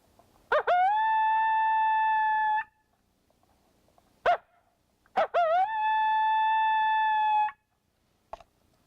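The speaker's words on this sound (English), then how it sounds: "we make a couple lone howls and listen to them, and we use a mouth call." Two long, steady coyote howls made with a mouth call, each opening with a sharp yelping onset and held for about two seconds, followed by brief clicks, with no other sound.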